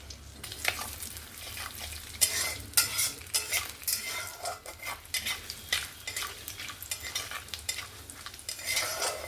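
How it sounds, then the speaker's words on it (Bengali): Whole spices (bay leaf, cardamom, cinnamon, cloves and a little cumin) tempering in hot oil over a low flame, a soft continuous crackling sizzle with frequent stirring scrapes of a spoon in the pan, close by, no talking. "গ্যাসের ফ্লেমটা কিন্তু একদমই স্লোতে রেখেছি, দিয়ে সুন্দর করে ফোড়নটাকে ভেজে নেব।"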